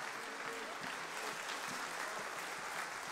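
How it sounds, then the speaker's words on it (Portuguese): A church congregation claps together in a dense, continuous wash of applause, loud and sustained for a few seconds, with faint voices mixed underneath. "Vamos aplaudir bem forte ao Rei da Glória."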